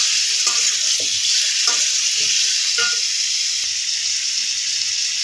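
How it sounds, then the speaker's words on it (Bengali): Spiced cauliflower fries in hot oil in a kadai, a loud steady sizzle throughout, broken by a few scraping stirs of a spoon in the first three seconds. "ভালো করে নেড়ে নেব।"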